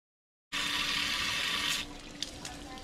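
Water gushes steadily to refill a hot water tank after an anode inspection, starting abruptly as a loud hissing rush that later softens with a few small knocks.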